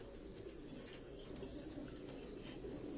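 Ferozpuri and Banke cross pigeons in a loft coo softly and continuously, low murmuring calls overlapping under a steady background hum, with no talking.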